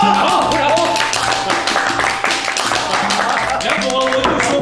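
Hands clap rapidly and loudly at a lively drinking party, and voices keep talking over the clapping.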